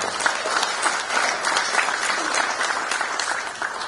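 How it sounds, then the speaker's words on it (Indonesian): An audience at an Indonesian political gathering celebrating an election win breaks into loud, sustained clapping, a thick wash of hands with slight swells and dips and no clear voices on top. "Boleh tepuk tangan."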